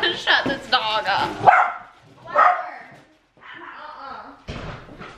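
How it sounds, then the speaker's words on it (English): A neighbor's big dog barks in a house, several loud close woofs and yips in quick bursts, followed by a short gap and another bark, with a person's voice mixed in. "The neighbor's dog barks, so now the whole house is going crazy."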